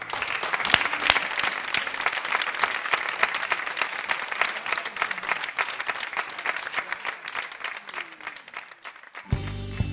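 A studio audience applauds loudly and steadily for a singer on a Catalan TV show, dense continuous clapping that holds until it cuts off near the end.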